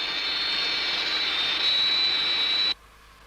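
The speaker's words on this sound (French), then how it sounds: "Il doit y avoir un avion tout près." A steady high-pitched airplane jet engine whine nearby, fairly loud and constant, cutting off abruptly near the end to near silence.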